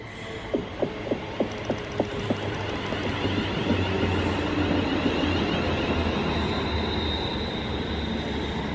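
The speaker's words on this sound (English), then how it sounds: "Our train is just coming into the platform" A train pulls into a station platform on a cold day, its low rumbling hum steady throughout, with a short run of rhythmic clicks from the wheels early on.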